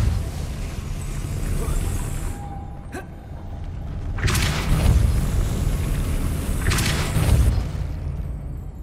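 Two heavy spell blasts from the Depulso force charm in Hogwarts Legacy burst out loud and close, each a broad whooshing boom a few seconds apart, over a steady rumbling game ambience.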